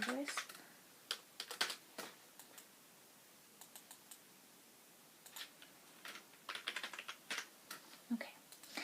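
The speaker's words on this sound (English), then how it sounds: "let me just type that in here to the invoice" Soft computer keyboard typing as an invoice is entered at a plastic surgery clinic, irregular clusters of quick, crisp key clicks with short pauses between bursts, close and quiet.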